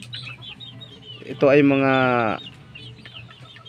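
Backyard gamefowl hens of Sweater, Hatch and Gilmore bloodlines clucking softly, then one lets out a loud, drawn-out call lasting about a second before the quiet clucks resume, with someone talking nearby.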